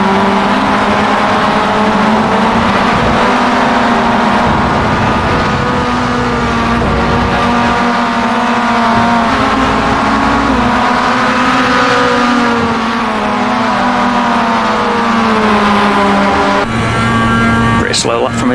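A Mazda MX-5 race car at Road Atlanta in iRacing drones continuously at high revs with rising and falling engine pitch through corners, loud and sustained, with someone talking over it throughout.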